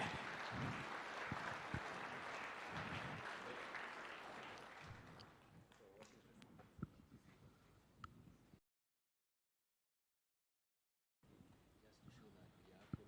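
An audience at a State House event claps together, loud and dense at first and then thinning into scattered claps. A brief silent gap follows, then sparse clapping resumes.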